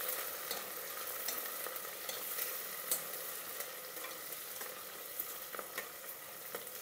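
Curry leaves and mint fry with onions in a hot pan for a khichdi, giving a continuous soft sizzle with scattered crackles and small pops, fairly quiet and steady with no talking.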